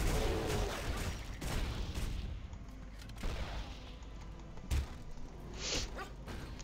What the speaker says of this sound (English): You realise I have been using a cannon right behind you,